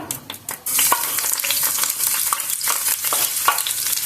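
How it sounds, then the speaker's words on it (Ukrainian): Loud, steady sizzling and crackling of onion frying in a hot pan, with a few stirring scrapes and no talking. "Розігріта у мене сковорідка, кидаю спочатку цибульку."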